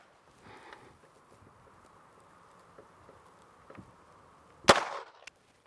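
A WWII British handgun fired single action outdoors gives one sharp, loud crack with a short trailing decay near the end, after quiet background with faint knocks.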